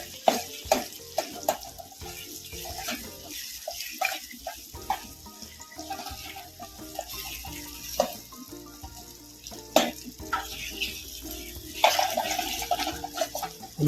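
Boiled potatoes being stirred and mixed in a pan for a quick room-cooked potato dish, with repeated clinking and scraping of a spoon against the pan in an uneven rhythm over light sizzling, close and fairly clear.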